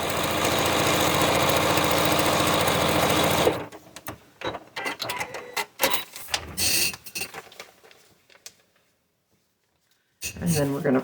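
A sewing machine runs in one loud, steady, close stitching burst for the first few seconds, then stops and a person talks in the quiet that follows.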